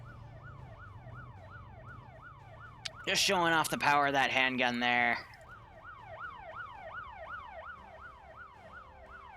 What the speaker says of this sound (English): And they left the sirens on of these Vic.